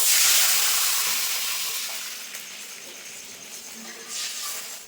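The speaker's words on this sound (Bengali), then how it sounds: "এবার ঝোলের জন্য জল দিয়ে দেবো" Water poured into hot oil for a pabda fish curry with okra sets off a loud hiss and sizzle that gradually fades to a softer, steady crackle.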